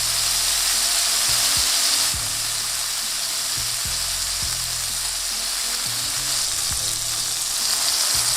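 A flipped smash burger patty sizzles loudly on a hot griddle, with a continuous hiss broken by occasional scraping and clanking from a spatula.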